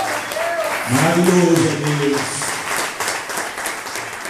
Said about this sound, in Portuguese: aleluia, aplauda o Todo-Poderoso.